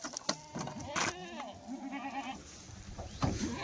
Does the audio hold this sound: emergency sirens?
no